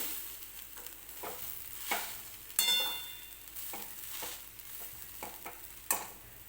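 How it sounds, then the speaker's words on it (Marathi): Steady scraping and stirring of grated jaggery and roasted coconut in a hot pan with a soft sizzle, punctuated by a few sharper clinks of a spoon against the metal. "आता जो गूळ किसून घेतलेला होता तो मी या खोबऱ्यामध्ये टाकून घेणार आहे"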